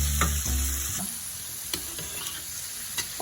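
Garlic and vegetables sizzle in a pan for paella, with a loud burst of frying and stirring at the start that settles into a quieter steady crackle punctuated by occasional scrapes.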